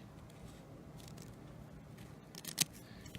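Scissors snip through RV awning fabric once, a single sharp, close cut standing out briefly against a quiet room background.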